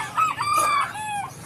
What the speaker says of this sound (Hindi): ये ब्लैक चाइना की मुर्गी है